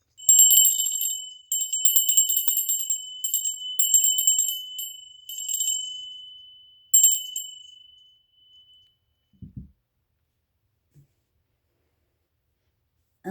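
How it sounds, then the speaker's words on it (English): Bright ringing bell tones struck in quick repeated bursts over about eight seconds, loud and close with a lingering tone between strikes, then fading to near silence with a few faint knocks. "let's ring the bell"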